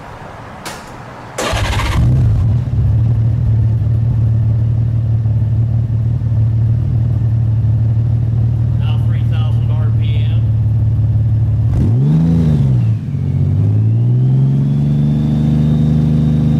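Honda Goldwing GL1800 motorcycle with all exhaust plugs removed, idling with a steady, loud low rumble close by, briefly blipping the throttle near the end before settling back to idle.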